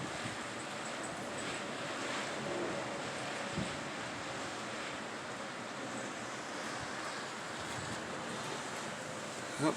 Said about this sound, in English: Very strong winds, under a wind advisory through tomorrow.